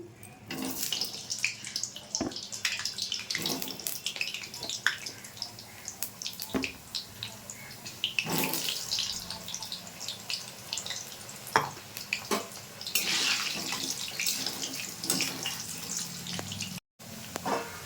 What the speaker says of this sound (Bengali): তেলটা গরম হয়ে গেছে প্রথমে আমি আলুটা ভেজে নিচ্ছি